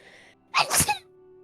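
One sharp, close sneeze bursts out abruptly in a quiet room, standing alone with no talk over it.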